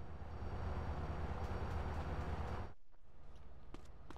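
A train rolls past in GTA San Andreas with a steady, loud rumble that cuts off sharply partway through, leaving quieter game ambience behind.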